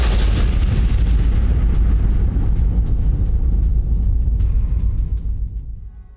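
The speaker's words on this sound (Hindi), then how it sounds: "यूक्रेन ने रूस का होवित्जर तोप पर हमला कर दिया है" A heavy artillery strike by HIMARS on a Russian howitzer sounds as a dense, loud, booming roar that rumbles on for several seconds before fading away at the end.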